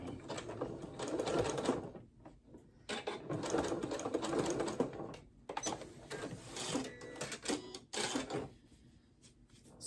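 A sewing machine zigzag-stitches a scrap fabric rag hotpad in several rapid rattling bursts of a few seconds each, separated by short pauses, close and clear.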